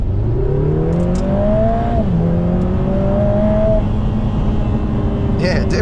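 A 2024 Lotus Emira with a 2.0-litre turbo engine accelerating hard on kick-down in track mode, its engine note climbing through a gearshift and rising again, loud and close from inside the cabin.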